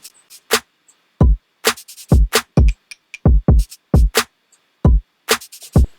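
Shaker sample from Splice layered over a programmed kick and snare beat: soft bright shaker ticks fill the gaps between loud punchy kick thumps and crisp snare hits, in a steady, dry, close rhythm.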